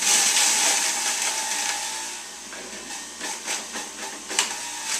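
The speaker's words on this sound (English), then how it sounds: "A lot of people feel like these high-speed juicers don't do your greens very good" A high-speed juicer whirs and hisses loudly as spinach and pineapple go through, with a steady high grinding roar that eases slightly and is broken by sharp crackling bursts toward the end.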